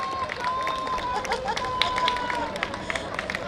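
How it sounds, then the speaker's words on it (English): An audience at a Mother's Day celebration applauds, with steady, dense clapping and faint crowd murmur throughout. "Please give a big round of applause."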